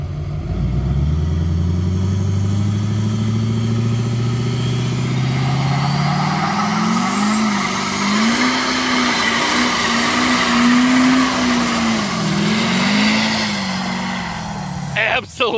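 A 2014 LML Duramax diesel full-size truck with compound turbos revs hard while its tires spin, a loud sustained engine roar that climbs in pitch and wavers, with tire squeal and rushing noise close by.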